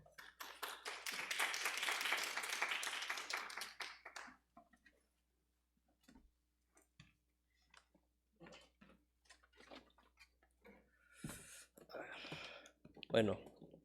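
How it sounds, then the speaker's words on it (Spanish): Applause for a presenter at an academic-artistic session on contemporary Japanese culture, a dense burst of clapping for about four seconds that fades out, followed by sparse sounds and talk. "Un aplauso para él."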